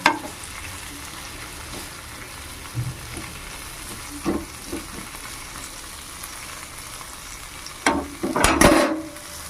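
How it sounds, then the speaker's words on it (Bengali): Green chilies, chopped onion and garlic fry in a pan with a soft, low sizzle, broken by a few utensil knocks and a louder clattering burst near the end. "ঝালের জন্য দিয়ে দেবো কাঁচামরিচ সব এগুলো ভেজে নেব"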